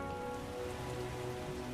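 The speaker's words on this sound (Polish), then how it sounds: "zaczął padać deszcz i wszyscy wchodzą pod..." Rain falls steadily in the fantasy role-playing game The Witcher, a soft, continuous patter on surfaces with low background hum and no voices.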